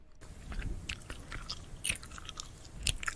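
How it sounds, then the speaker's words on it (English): Gum chewed loudly with the mouth open gives wet, smacking clicks and crunchy bites in an uneven steady rhythm, very close and continuous for a few seconds. "Do not make these sounds when you chew gum."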